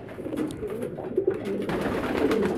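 Male pigeon with a swollen crop cooing nearby, a steady low murmuring coo repeating through the whole short stretch at moderate loudness with no talk.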